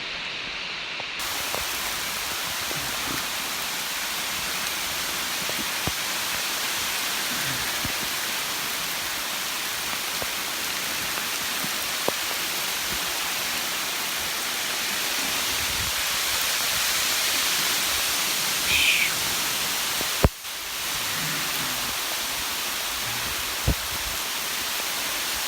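Steady rain falls on the Appalachian Trail, a broad continuous hiss of drops close by for the whole stretch, broken by a few faint thumps and rustles.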